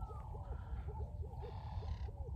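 Soft, repeated cooing of doves, several low hooting calls in a loose rhythm over faint wind and background noise.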